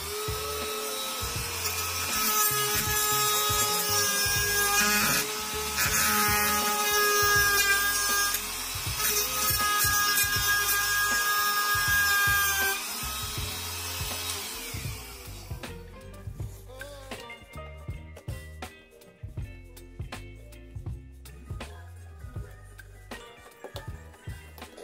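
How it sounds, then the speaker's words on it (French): A portable angle grinder on a bolt head during motorcycle turn-signal installation, a high whining grind rising and dipping over about fifteen seconds, then stopping into scattered clicks and tool knocks. "Je vais donner un petit coup de meuleuse portative sur la tête dérivée."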